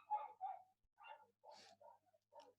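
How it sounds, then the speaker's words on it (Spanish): Dogs bark somewhere in the morning outside a classroom, a handful of short, moderately faint barks in irregular bursts with brief gaps, no talking over them. "Justo los perros ladrando cuando uno hace clase."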